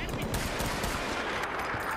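M1 Garand rifle fire in the Bad Company 2 Vietnam shooter game comes as a dense, continuous barrage of loud shots and battle noise with no pauses.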